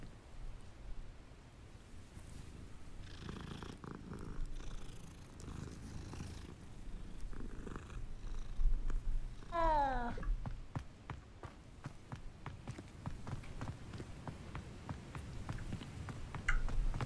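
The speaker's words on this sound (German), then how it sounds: "Und eine Katze." A cat in the Hogwarts Legacy video game purrs steadily through the clip, with one clear meow rising midway and faint rustling and footsteps underneath.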